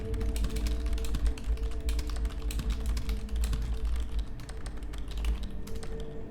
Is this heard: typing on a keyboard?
yes